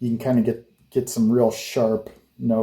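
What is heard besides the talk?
No everyday noises stand out.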